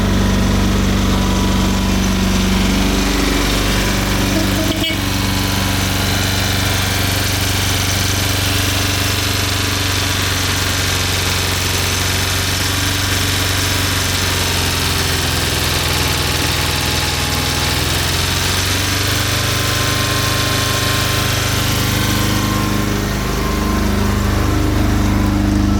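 A Porsche 924 Turbo engine held at about 3,000 RPM, a loud, continuous mid-pitched drone with slight wavering in pitch, close up and unbroken throughout, no voices.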